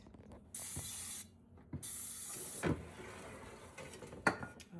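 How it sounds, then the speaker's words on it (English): Two short bursts of cooking spray hiss onto a pan for air-fried chicken close by, followed by light clinks and rustling of kitchenware. "We're spraying the pan on first."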